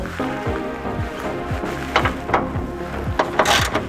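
A ratchet wrench clicks on a suspension nut, around a 17 mm nut near the control arm, during an AWD J-swap on an EG car, a close run of quick repeated ratcheting strokes with uneven pauses between them.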